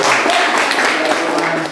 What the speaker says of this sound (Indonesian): Baik, pintar. Tepuk tangan.